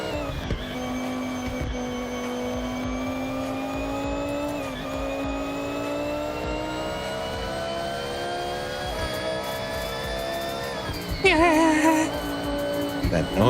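A tuned car engine in the Forza Horizon 6 racing game drones loudly and steadily as it climbs through the revs, with a brief shift dip midway and a rough, warbling burst near the end.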